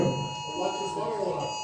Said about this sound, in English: Alexa, turn the fire alarm off.